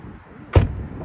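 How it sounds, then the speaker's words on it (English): An electric car door shuts with one solid, muffled thump, close and fairly loud, followed by a short low rumble inside the cabin before quiet returns. "once I close the door"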